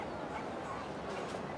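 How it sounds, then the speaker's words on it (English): A small dog barks and yips faintly amid the city ambience of the game Cities: Skylines, short distant yaps over a steady low background hum. "Just heard a dog. Where's the dog?"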